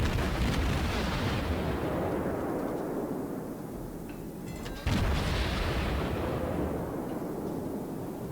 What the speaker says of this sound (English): move up here to start unloading rounds into them, getting the shots pumping.